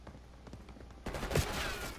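Heavy gunfire erupts in Call of Duty Black Ops 6, a loud burst of rapid shots and impacts striking the player after a quieter stretch, continuing densely to the end.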